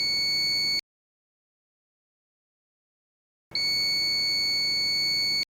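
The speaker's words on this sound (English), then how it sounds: "A beep indicate normal and unobstructed" An ANENG 613 smart multimeter gives its continuity beep as a steady, high electronic tone that sounds twice: a short burst at the start, then a longer one after about three seconds of silence.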